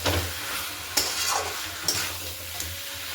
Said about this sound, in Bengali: কাশ্মীরি লঙ্কা দিয়ে মশলাটাকে ফের কষিয়ে নিতে হবে